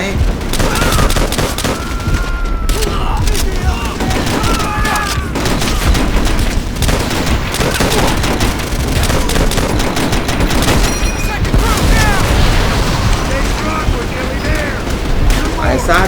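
Dense, continuous gunfire in the Call of Duty: World at War game, rapid machine-gun bursts and booming shots stacked over each other, loud and close, with a player talking over the battle.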